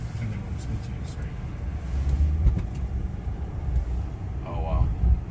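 A Tesla Model X cruises with no engine sound, only a steady low rumble of tire roar and wind inside the cabin that swells slightly midway, with a brief muffled voice near the end.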